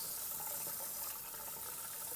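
Warm water runs steadily from a kitchen tap over a food wrapper being wetted, a continuous close hiss and splash with no talk.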